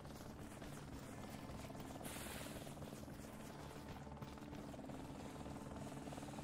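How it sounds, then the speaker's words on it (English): Helicopter flying in the video game Arma Reforger, a continuous rotor whir and buzz at even loudness, quiet overall, with a brief hiss burst partway through. "What's this heli doing?"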